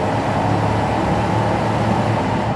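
A 1996 GMC K1500 Z71 pickup with a Vortec 350 V8 and automatic transmission, factory exhaust, hums steadily from the cabin on a test drive, a continuous low engine drone mixed with road noise.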